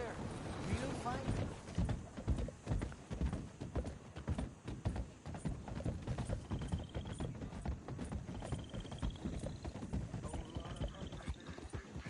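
Horse hooves clip-clop steadily in the Red Dead Redemption II video game, a continuous rhythmic trotting under background game sounds and faint high tones.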